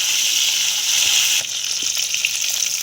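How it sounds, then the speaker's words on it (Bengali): Katla fish pieces fry in hot oil, making a loud, close, steady sizzle that eases slightly partway through, with small spatters and stirring sounds. "আর এক পিঠটা পাল্টে দিচ্ছি, দিয়ে একটু আমি ভেজে দেবো।"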